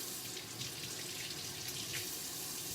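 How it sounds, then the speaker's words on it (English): Running tap water splashing steadily into a kitchen sink as peeled vegetables for a 16 bean soup are rinsed, a close, continuous hissing gush with slight shifts as the stream hits the produce. "So I just wanted to peel that,"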